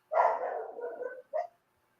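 A dog gives one drawn-out, whining bark followed a moment later by a short sharp yip, both close and fairly loud, with silence afterward.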